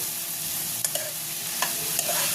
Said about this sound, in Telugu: ఉల్లిపప్పు కరివేపాకు వేసేసుకుని వేయించుకుందాం దోరగా